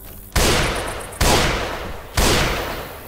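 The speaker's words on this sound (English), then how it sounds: "I have a flaming sniper rifle now" Three loud, evenly spaced booming shots from an incendiary sniper rifle in Left 4 Dead 2, each a sharp blast trailing off into a long decaying tail.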